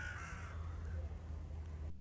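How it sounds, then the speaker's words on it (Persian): Crows cawing outdoors, a few faint calls heard over a low, steady background hum. "بانگ کلاغ ها"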